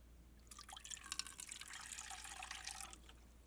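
Fresh, clean water poured into a container for watercolor painting: a quiet, steady trickling splash lasting a few seconds, close by with no talk.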